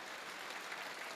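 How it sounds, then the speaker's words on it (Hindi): Audience clapping at a Hindi poetry gathering at Gauri Gopal Ashram, a dense, continuous wash of many hands applauding together, fairly soft and with no voices over it. "फिर अब तालियां बजाइए"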